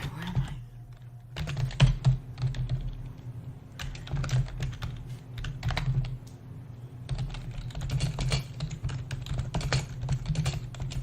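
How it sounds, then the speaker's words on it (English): Rapid typing on a computer keyboard, close and clear, coming in irregular bursts of clattering keystrokes with short pauses between them. "Oh, you're talking about the thing I'm typing on?"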